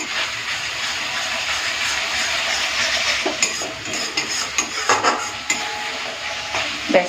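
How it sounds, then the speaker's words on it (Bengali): Spice paste for Bengali bhetki fish kalia sautés in oil, a loud, continuous sizzle and hiss with a spatula scraping and clinking against the pan in irregular strokes, growing busier toward the end. "আবারও একবার মশলাটাকে ভালো করে কষে নেব"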